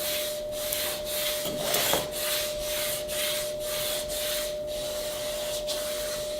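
A rounded MDF block rubbed firmly back and forth over laminate glued to a wooden sheet, giving steady close scraping strokes in an even rhythm with a constant hum underneath.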